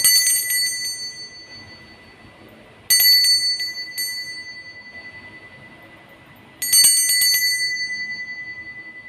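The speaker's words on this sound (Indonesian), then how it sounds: "ditandai dengan lonceng berbunyi" A bright bell rings in three separate bursts of quick strikes, each leaving a long shimmering ring that fades out before the next.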